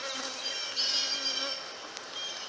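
Honeybees buzz around a hive frame while a colony is being split, a steady close droning hum with slight swells in loudness.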